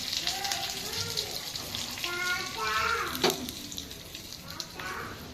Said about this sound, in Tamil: கடுகு நல்லா பொரிஞ்சு வரட்டும். அது நல்லா பொரியுது.